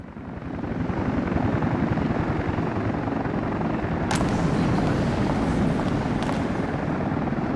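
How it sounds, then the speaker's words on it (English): Helicopters pass over a town in the Soviet Republic city-building game, a loud continuous rotor thump and engine drone that swells in and holds steady, with no talking. "These helicopters are quite loud to have around town."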